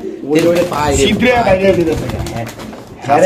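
Fancy pigeons for sale coo close by in low, rolling calls at a pigeon market while someone talks loudly over them.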